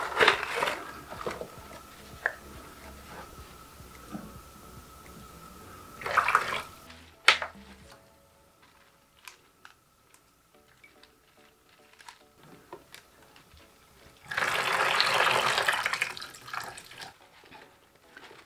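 Tap water runs while the water for pothos plants growing in LECA is changed, with bursts of splashing flow at the start, around six seconds and near fifteen seconds, and quieter drips and handling in between.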